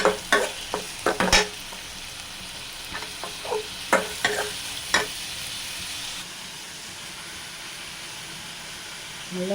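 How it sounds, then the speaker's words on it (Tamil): Sliced radish and garlic sautéing in a pan, with a steady close sizzle broken by bursts of sharp spatula scrapes and clatters early on that thin out into quieter frying. "முள்ளங்கி வதக்கணும்"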